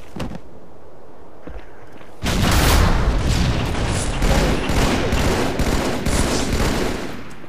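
Rapid gunfire in a video game scrim, a quiet lead-in giving way to a loud sustained burst of overlapping shots and booms that continues with sharp repeated cracks to the end.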